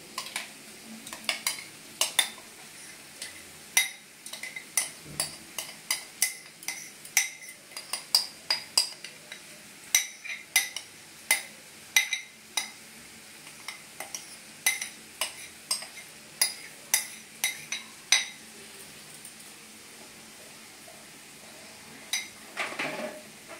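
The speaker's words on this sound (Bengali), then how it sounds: "এবার আমি এর মধ্যে মশলাগুলো কষা হয়ে গেছে, আমি এর মধ্যে পটলের পেস্টটা দিয়ে দিচ্ছি।" A spoon repeatedly scraping and clinking against a pan as pointed gourd paste is stirred into cooked spices, quiet rhythmic metallic taps and scrapes close by, steady throughout with no voices.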